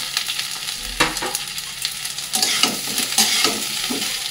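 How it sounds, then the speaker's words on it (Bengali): Bitter gourd, pointed gourd, papaya and potato fry in hot oil in a pan, with a steady close sizzle and loud intermittent stirring scrapes, and no voices. "এটা একটু ভাজা ভাজা করে উচ্ছে, কাঁকরোল, পেঁপে, আলু সব কিছু দেখো মোটামুটি ভাজা হয়ে গেছে।"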